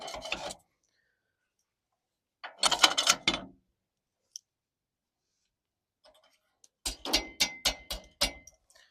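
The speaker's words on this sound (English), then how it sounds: "We'll put this into the tow bar here, so it goes in like that." A flat-pack metal crash bar for a rooftop tinnie loader is slotted into a ute's tow bar: short scraping, rattling bursts, then a quick run of sharp metallic clicks and knocks with silence between.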